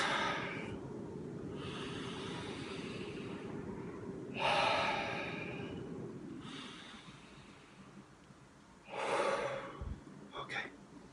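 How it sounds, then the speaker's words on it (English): Deep slow breaths, several long inhales and exhales drawn close to the microphone over a low steady hum, each breath swelling and fading. "Take a few deep breaths."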